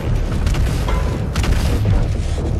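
A grenade explodes in Doom Eternal, a loud, dense boom with rumbling low end and crackling debris that fills the whole moment without a break.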